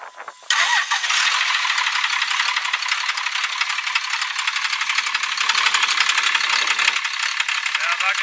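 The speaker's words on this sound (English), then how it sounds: "We'll fire it up. She cranks right up from the key." A 1999 Dodge 3500 diesel truck engine cranks briefly from the key then catches and settles into a loud, rattling idle that runs steadily close by, with a voice over it.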